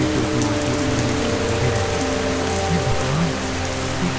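Heavy rain pours steadily across a village, a dense, loud, unbroken hiss of drops on surfaces that fills every moment.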